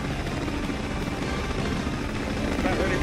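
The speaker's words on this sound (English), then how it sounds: "The helicopter." Helicopter rotor and engine noise from a cutscene in the Double Dragon 2 video game, a steady dense broadband whir that runs loud and unbroken throughout, with game sound layered over it.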